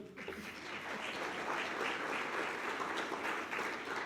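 An audience at a panel conversation on business, race and sport applauds a panelist, producing a steady wash of many hands clapping at moderate volume for several seconds, with no voices standing out.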